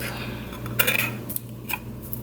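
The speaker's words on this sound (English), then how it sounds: "I'm gonna just mix all the ingredients together" Casserole ingredients, including cream style corn and tomato soup for a cheesy beef casserole, are stirred together in a bowl, making a few quick clinks and scrapes of a utensil against the dish over a low steady kitchen hum.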